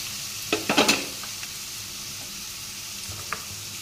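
Garlic frying in a pan for a chickpea dal, a soft continuous sizzle broken by a quick cluster of sharp stirring scrapes near the start and one more later, close by with no talk.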